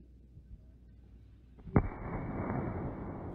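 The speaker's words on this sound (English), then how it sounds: "More fireworks." Fireworks go off at a distance: a quiet lead-in, then a sharp launch pop and a sudden loud burst that leaves a long, broad rumbling crackle trailing off to the end.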